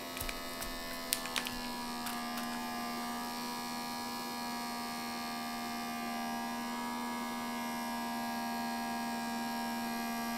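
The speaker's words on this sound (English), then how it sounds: "it looks like it's sucking the air out. It is working." Countertop vacuum sealer pulling the air out of a bag holding a sirloin tip roast: a steady, fairly quiet electric motor hum and buzz running without a break, with a few faint clicks near the start.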